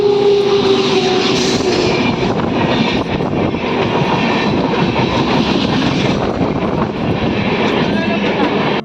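A train rumbles past on a busy Indian railway station platform, a loud continuous roar of wheels and engine with a brief high squeal early on, while people talk underneath.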